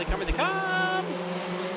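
Race cars at Rockford Speedway, an American short track, roar as they accelerate in a heat race, engine pitch climbing then holding steady, with a brief voice near the start.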